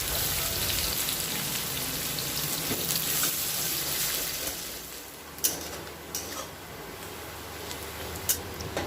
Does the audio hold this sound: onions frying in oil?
yes